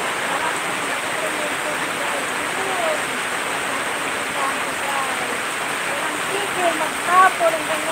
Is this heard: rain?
yes